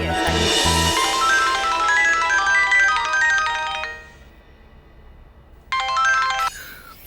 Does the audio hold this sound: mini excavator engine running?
no